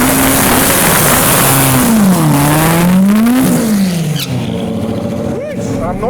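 Boosted classic car at a drag strip, its engine loudly revving and climbing in pitch, dipping briefly at a short shift into second before pulling again, then fading as it moves away.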